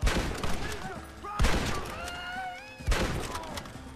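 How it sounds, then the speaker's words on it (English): Three separate bursts of gunfire in the Red Dead Redemption video game, spaced about a second and a half apart, with shouting voices and tonal game sounds between the shots. "I'm shooting him."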